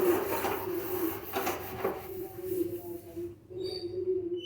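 Someone scrubs a kitchen counter and stove by hand, with steady close rubbing strokes that are fairly loud in the first half and ease off later, over a constant low hum and no talking.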